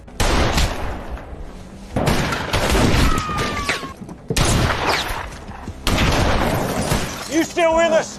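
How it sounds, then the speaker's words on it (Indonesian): Gunfire and shattering glass erupt in a film shootout, with loud bursts of shots, breaking and slamming impacts repeating in several waves, and brief voices between them. "terjadilah baku tembak"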